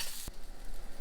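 Onions and asparagus frying in a pan, a continuous close sizzle with a brief sharp stir or clatter near the start, no voices.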